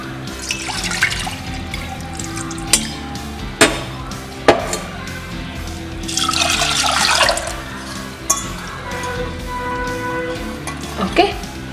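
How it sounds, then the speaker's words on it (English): Water is poured from a cup into a pressure cooker holding two cups of moong dal, with several sharp splashing bursts and a longer steady pour, close by over kitchen room noise and a talking voice. "Add some water."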